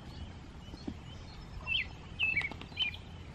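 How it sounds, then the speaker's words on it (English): Birds chirp and tweet outdoors on a morning after a severe overnight storm, short bright calls coming in a few bursts over quiet ambient background, moderately distant and faint. "Listen at the birds chirping this morning."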